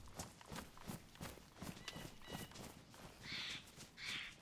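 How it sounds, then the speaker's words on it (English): Footsteps snapping sticks in the DayZ video game: a steady run of crunching, clip-clop-like steps with sharp woody snaps, followed near the end by two brighter, louder crackling bursts. "the stick snapping on your footsteps is like so audible"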